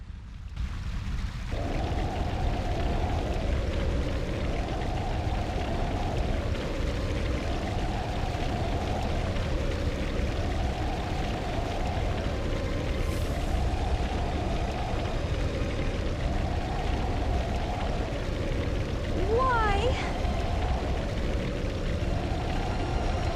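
A burning building in Sonic Adventure DX gives a constant, loud roaring crackle of fire that swells and fades in a slow, regular wave, with a brief higher electronic chirp near the end and no talking.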